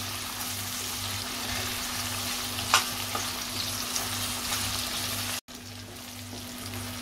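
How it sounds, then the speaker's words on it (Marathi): Onion and tomato pieces cooking in a pan for a black-eyed pea and potato dish: a steady close sizzle under a low constant hum, with a single stirring knock and a brief dropout near the end. "कांदा टोमॅटो चांगला शिजवून घ्यायचा आहे आपल्याला"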